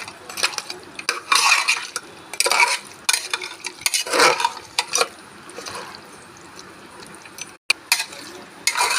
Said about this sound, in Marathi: व्यवस्थित हलवून घ्यायचं आहे असं मस्त वरती खाली वरती खाली करायचं